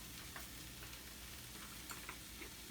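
A taco shell fries in a little oil in a pan, giving a faint, steady sizzle with small crackles and pops scattered throughout.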